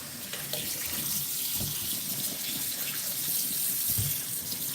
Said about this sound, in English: Now I'm just rinsing my noodles with some cool water so they don't stick